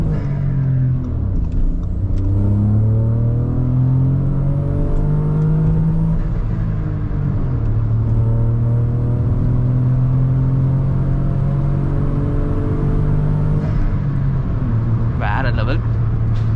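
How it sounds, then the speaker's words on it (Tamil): A Skoda Slavia with stage 3 modifications and a 3-cylinder engine launches in first gear with wheel spin, engine droning loud and rising in pitch while people talk over it inside the car. "ரொம்ப வந்து அக்ரெசிவாக லான்ச் பண்ணல, ஒரு மைல்டு லான்ச் தான் இது."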